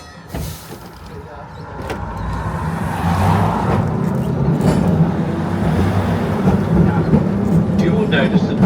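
A tourist tram in a gold-rush town rolls along and gathers speed, a low rumbling rattle that swells and then holds steady, with a recorded voice announcing over the running noise.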